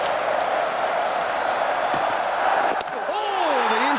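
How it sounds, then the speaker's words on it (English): Large cricket crowd at a Test match between England and New Zealand, a dense continuous roar of noise from the stands, loud and sustained, with a voice rising over it near the end. "Listen to the crowd."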